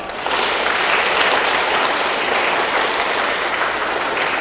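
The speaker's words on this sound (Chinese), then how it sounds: "让我们用最最热烈的掌声欢迎他们的到来" A large audience at a formal university gathering gives loud, sustained applause to welcome biologists from around the world, a dense, even roar of clapping that starts abruptly and holds steady to the end.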